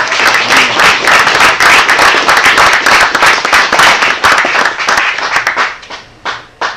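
Loud applause from a workshop audience at the 2023 Iron Dog rookie session, dense clapping that holds steady for several seconds, then thins into scattered claps and fades out.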